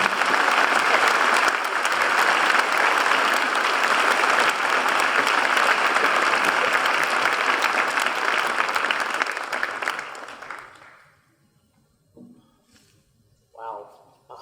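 A school Veterans Day audience applauds a speaker in a sustained, dense round of clapping that fills the hall for about ten seconds, then fades out, followed by brief scattered sounds and a voice.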